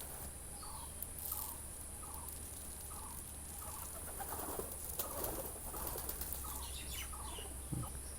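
Pigeons cooing in a loft, softly and close, in a steady repeated rhythm of low throaty calls about every half second, with a few wing flutters and rustles behind them and no speech.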